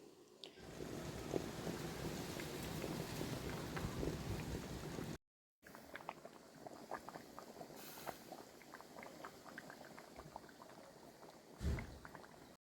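Continuous bubbling and burbling of condensed milk boiling in a pot, close by, with a brief cut midway and a soft thump near the end.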